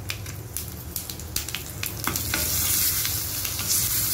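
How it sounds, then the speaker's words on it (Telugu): A dry red chilli and a pinch of turmeric fry in hot oil for a cucumber chutney tempering, with a close, steady sizzle and scattered stirring clicks that grow louder and denser toward the end. "సిమ్లో పెట్టుకొని దోరగా వేయించుకోండి."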